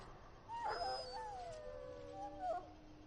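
A dog whimpers in Dragon Age Origins with a thin, high-pitched whine that rises and wavers across a few drawn-out cries. It is moderately quiet, with no talking.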